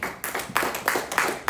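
A church congregation claps in a steady rhythm at a sermon, four or five distinct, evenly spaced claps sounding close together.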